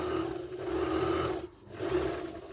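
A Veritas sewing machine runs with its needle moving, giving a steady mechanical whir and rasp that dips briefly midway and then resumes, close and alone with no talk.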